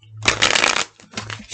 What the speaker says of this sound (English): I've pre-shuffled the deck, but I like a little shuffle to continue